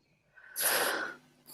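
A single short, sharp sneeze bursts out quietly amid a conversation in a live online debate, with a faint breath before it and no talking during the sneeze itself.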